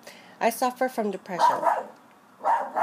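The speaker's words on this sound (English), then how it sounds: "that's my dog barking in the background." A dog barks several times in quick succession in the background while someone talks over it.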